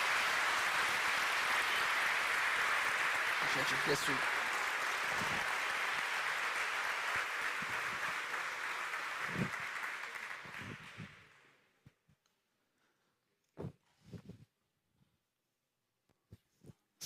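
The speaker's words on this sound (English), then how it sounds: "So round of applause" Awards ceremony audience applauds loudly for about ten seconds before the clapping fades to silence, leaving a few scattered claps and brief spoken thanks from a man.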